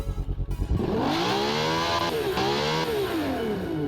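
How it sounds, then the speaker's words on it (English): A custom-built V12 in a car-building video game revs up after a few choppy idle pulses, rising and falling in smooth, loud sweeps with clear harmonic whine, heard alone. "All right, what does our new V12 sound like?"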